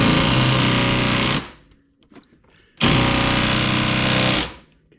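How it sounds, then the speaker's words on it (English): Air impact wrench loosening trailing arm bolts on a Saab 9-5, two loud rattling bursts about one and a half seconds each, separated by a short pause, close up with no talking. "Take the impact socket and pull them out."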